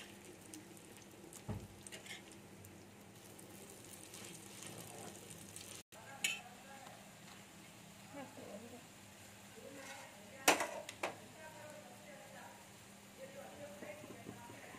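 Lentil fritters (bora) frying in hot oil, a quiet steady sizzle with faint stirring and scattered clicks of utensils, low and close throughout.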